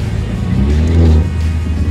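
A Mercedes C300 AMG Coupe in comfort mode revving with its exhaust valve open, a loud close low rumble that climbs in a short rev and settles back, with no talking.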